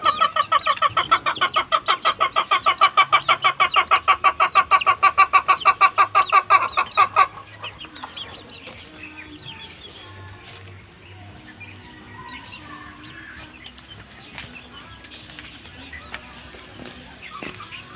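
Young Kelso Black Pumpkin hatch gamefowl chicks cheep in a rapid, steady, loud run for about seven seconds, then fall to faint scattered peeps and soft farmyard background.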